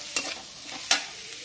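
Chilli corn with oregano is stirred in a pan, two sharp scraping strokes of a spoon against the pan over a faint low sizzle, close and quiet between strokes.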